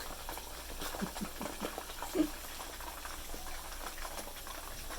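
Chicken wrapped in pandan leaves frying in hot oil gives a faint, steady sizzle with soft crackles and one slightly louder pop midway, no talk.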